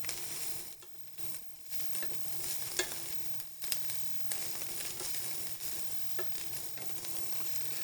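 Collard greens and pine nuts sauté in a hot pan, a steady broadband sizzle with scattered stirring scrapes and small clicks, close and continuous with no voices.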